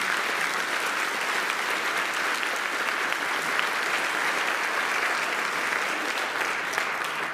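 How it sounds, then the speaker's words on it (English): A concert audience at a band performance claps for the donors in a long, even wave of applause, broad and continuous from start to finish. "Give them all a nice round of applause."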